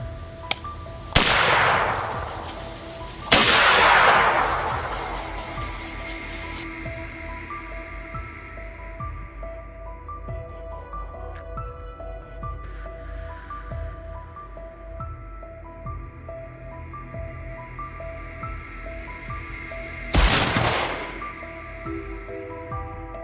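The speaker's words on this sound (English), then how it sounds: "one shot dead center, the boar collapsed instantly" A gunshot from a wild boar hunt: several sharp broadband cracks, two close together early and one more near the end, each ringing out over a steady outdoor background with faint insects and no talking.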